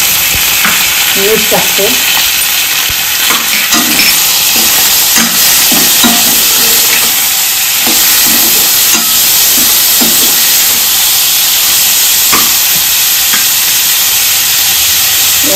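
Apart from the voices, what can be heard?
prawns sizzling as they fry in a pan with browned onions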